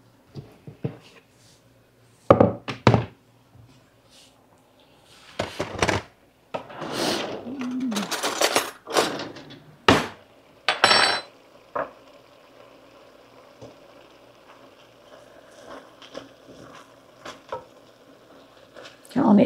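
Chicken pieces browning in butter in a hot pan for homemade chicken and dumplings, with intermittent sizzling bursts and clattering handling noises, some louder spikes between quieter stretches of soft frying.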